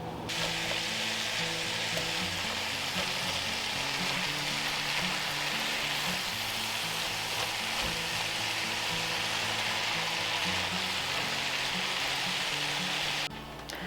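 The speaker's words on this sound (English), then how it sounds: "I'll add in the kielbasa back to the skillet, a little bit of salt and pepper" Kielbasa and vegetables sizzling in a skillet, a loud, continuous crackling hiss held close throughout with faint stirring, no talk.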